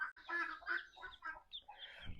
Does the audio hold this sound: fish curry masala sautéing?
no